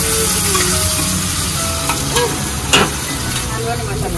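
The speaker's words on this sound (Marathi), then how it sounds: "इथे आता साईडला शिंपल्यांचं सुकी चटणी बनवायचं चालू आहे" Dried clams being fried into a Malvani-style dry chutney in a pan, a steady close sizzle with occasional stirring scrapes and brief louder clatters.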